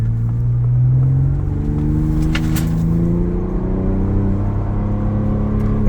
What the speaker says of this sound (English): So that's all that like rev matching she's doing right now.